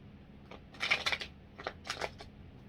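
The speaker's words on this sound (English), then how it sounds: "Let me shuffle you one more time." Several short bursts of tarot cards being riffled and shuffled at close range, with brief pauses between them, no talking.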